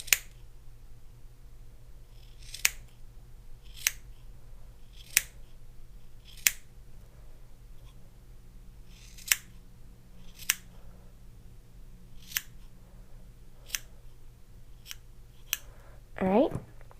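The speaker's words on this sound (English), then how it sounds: "going to take my longer bladed scissors and just very carefully, without cutting your fingers, just trim across" Long-bladed scissors snip across a yarn tassel in about a dozen crisp, evenly spaced cuts, close and quiet, with a voice speaking softly between them.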